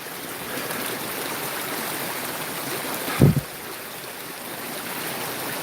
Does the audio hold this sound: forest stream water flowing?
yes